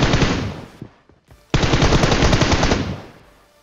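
Rapid automatic gunfire in PUBG Mobile, a dense, loud burst that cuts off, then after a short pause another long sustained volley rattling continuously.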